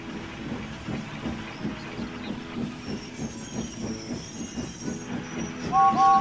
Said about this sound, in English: James was helping Lily shunt around the marshalling yards.